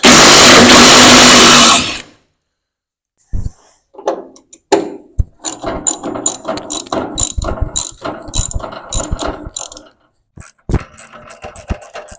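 A ratchet wrench works loose half-inch bolts on the nose cone of an International Harvester 140 tractor, giving bursts of rapid, loud metallic clicking close by after a brief roar and a pause of near silence.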